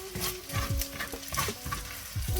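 Egg fried rice made from leftovers being stir-fried in a pan, with steady sizzling and repeated scraping stirs of a utensil, close and fairly loud.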